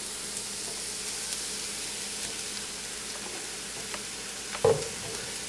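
Vegetables sizzling in olive oil in a pan, a steady close hiss of frying with soft stirring scrapes and one brief louder clatter near the end, no talking.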